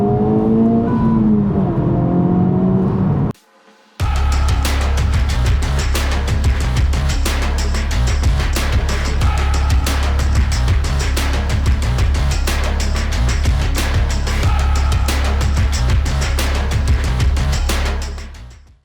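Honda Civic Type R FL5 pulling hard in second gear, a loud sustained engine roar building steadily after a brief cut, heard from inside the car with no talking.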